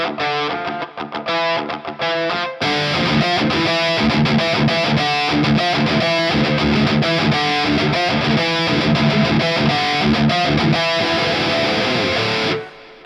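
A loud electric guitar lead tone runs through a Dark Triad preamp boost pedal, heavily distorted with fast, dense playing that starts thinner and surges fuller after a couple of seconds, sustaining for about ten seconds before cutting off.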